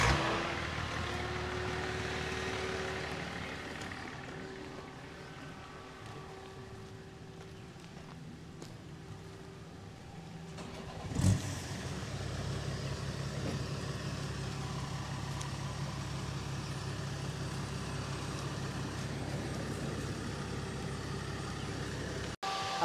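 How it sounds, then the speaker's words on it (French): A BMW 330Cd E46 with a stage 3 tuned diesel engine starts with a brief loud crank and catch, then settles into a steady, rumbling idle that runs on evenly afterward. "Je peux démarrer la voiture?"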